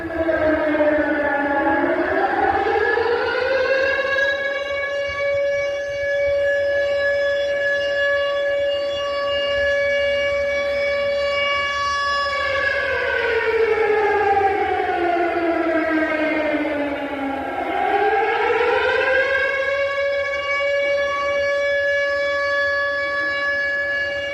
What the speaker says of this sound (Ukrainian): Шановні громадяни, в місті Одеси оголошено повітряну тривогу.